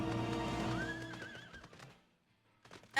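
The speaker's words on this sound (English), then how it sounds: "Ah, the Leviathan horsey." A Leviathan horse creature in a video game lets out a whinnying neigh with a rising, wavering tone over busy game sounds, then the scene drops to near silence before a brief burst returns.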